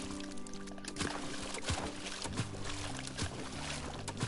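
A game character wades through water in Bo's Island, with soft repeated splashes and sloshing strokes over a steady ambient hum.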